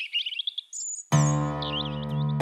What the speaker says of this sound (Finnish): Kuunnellaan lintuja ja